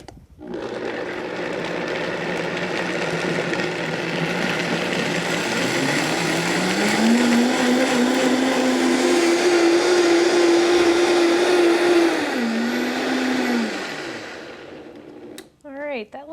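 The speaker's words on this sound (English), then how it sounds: "We're gonna blend this up until it gets to be a consistency of a creamy gravy." A countertop blender whirs loudly and continuously while puréeing almond chai gravy for spaghetti squash. The motor pitch climbs partway through as the mixture smooths, then winds down and cuts off near the end.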